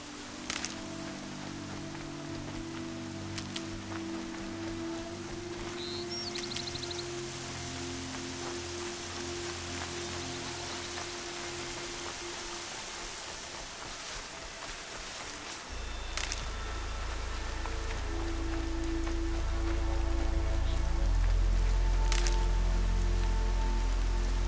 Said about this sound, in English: Rain's not so bad.